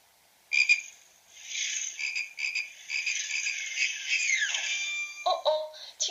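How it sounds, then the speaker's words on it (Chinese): A sound-effect storybook plays a frog croaking, a steady buzzy ribbiting tone held for several seconds that ends in a falling slide and a few clattering knocks, clear and close, with no talking. "哦哦，青蛙玩滑板摔倒了。"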